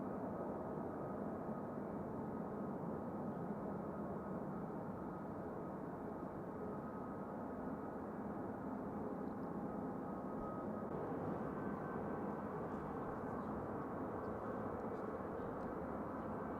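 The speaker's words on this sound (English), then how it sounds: "this Ryanair is going to Rovaniemi, Boeing 737-800 Ryanair" Ryanair Boeing 737-800 jet, a steady broadband engine roar holding at constant loudness throughout, with no voices.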